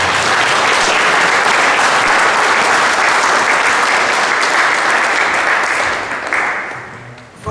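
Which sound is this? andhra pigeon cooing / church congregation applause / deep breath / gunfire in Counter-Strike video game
church congregation applause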